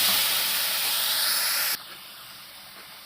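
Three kilograms of chicken hit a hot frying pan with a loud, broad hiss of sizzling oil. The sound cuts down sharply halfway through to a quieter, steady sizzle.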